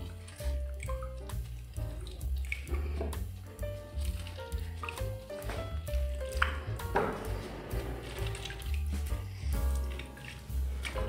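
Cleaned milkfish is squeezed by hand so its soaking water drains out. Wet squishing comes with steady dripping and splashing into a sink or bowl, close by, over a soft tonal background and no talking.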